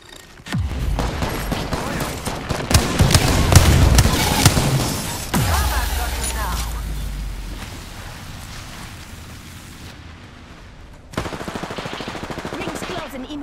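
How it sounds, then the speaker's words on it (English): Gunfire in the Apex Legends video game: rapid automatic bursts and single shots crackle loudly in quick succession, fading into scattered fire and ending in a sharp new volley. "Enemies are shooting at me"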